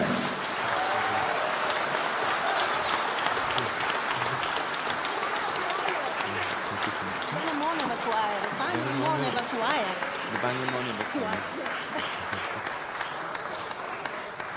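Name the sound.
applause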